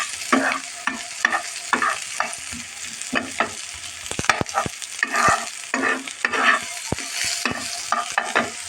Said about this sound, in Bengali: এখন আমি পেঁচকুচিটা একটু হালকা করে ভেজে নেব